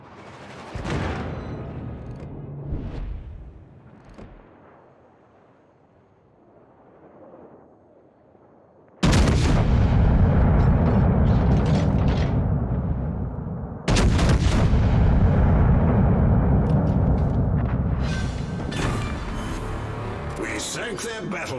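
Heavy naval guns boom in a warship video game, with two loud, sudden blasts followed by long rumbling roars and crackling impacts, after quieter distant rumbles at the start.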